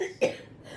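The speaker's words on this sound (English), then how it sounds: "Been coughing a little more" A person recovering from a painful illness gives one short, close cough in a quiet room.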